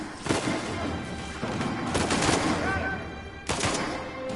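Gunfire in the video game Uncharted 4, bursts of rapid automatic shots with loud sharp cracks in several clusters, dense and close, with a voice faintly present beneath.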